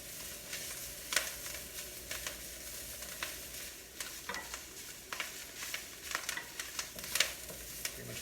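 Kale leaves sauteing in oil in a hot pan over high heat, a steady soft sizzle broken by frequent scraping and stirring clicks, heard close with no talking.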